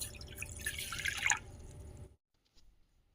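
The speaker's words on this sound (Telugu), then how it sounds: "ఇక్కడ మ్యాగీ ఉడికించుకోవడానికి వాటర్ అయితే వేసుకుంటున్నా." Water poured into a pot for boiling Maggi noodles in a home kitchen, a steady splashing trickle for about two seconds that stops abruptly, leaving near silence with a faint clink afterward.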